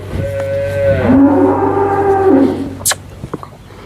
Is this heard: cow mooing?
yes